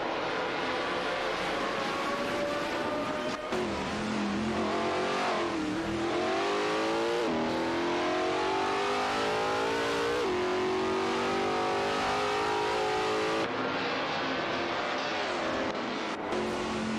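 Race cars in an AI racing video game accelerate and rev continuously, engine pitches climbing and shifting as several cars jostle close together, loud and steady throughout with no talk.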